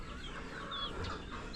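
Hens clucking softly in a steady, continuous background, with a few sharper calls standing out now and then.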